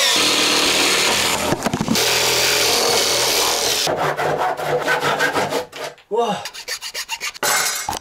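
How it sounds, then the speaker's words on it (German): A jigsaw with a badly blunt blade grinds through very hard oak, a harsh rasping cut that runs steadily, breaks off briefly and restarts in rough rhythmic strokes, loud and close with no voices. "das Blatt von der Stichsäge extrem katastrophisch stumpf war, das hier Eichenholz ist und sehr, sehr hart"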